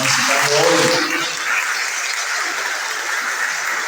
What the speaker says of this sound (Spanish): quiero que le den un aplauso bien grandote a los que nos están visitando hoy